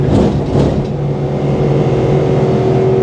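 Citroen C1 race car driving on a circuit, heard from inside the cabin as a loud, steady engine drone with a constant low hum throughout.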